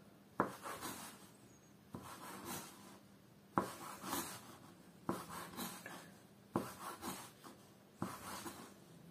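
A knife cuts rolled strands of sweet dough into pieces for baursak, each soft cut landing with a dull tap and short scrape, repeating at a steady pace, quiet and close.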